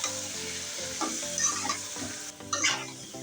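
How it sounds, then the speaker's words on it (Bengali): Ash gourd sizzles in spiced oil while it is stirred, a close, fairly soft frying hiss with a few scraping strokes of the spoon and a brief louder burst of sputtering. "এখন আমি জালি কুমড়োটা দিয়ে দিচ্ছি। দিয়ে এখন ভালো করে নেড়ে চেড়ে মিশিয়ে দেবো"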